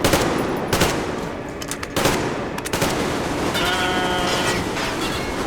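Loud, dense gunfire rattles in bursts through the Metro Exodus video game, overlapping with sustained battle noise and a continuous roaring backdrop throughout.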